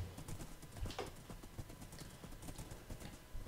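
Horse hooves clip-clop in the video game Minecraft, a quiet, steady run of rapid hoofbeats with no talking.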